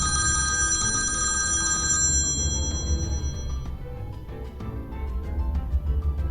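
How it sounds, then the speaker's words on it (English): A telephone rings loudly and close for about two seconds with a bright, sustained electronic ring, then cuts off, leaving a low murmur of background noise. "The phone rang, a sharp sound that broke everyone's concentration."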